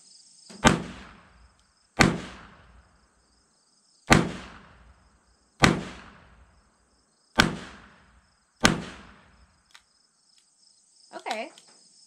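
Six sharp, loud gunshots from a Chiappa Rhino .357 revolver at an outdoor target range, spaced about one to two seconds apart, each with a short decaying echo over a steady insect hum, followed by a brief voice.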